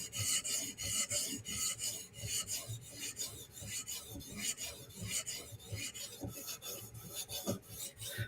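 Steel knife blades stroked back and forth on a 400 grit sharpening stone give a steady rhythmic rasping, close and fairly quiet, repeated many times without pause.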